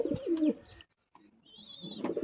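Racing pigeons in a loft coo in low, throaty bursts, a cluster of calls near and moderately loud, then a short pause before more cooing returns with a thin higher chirp above.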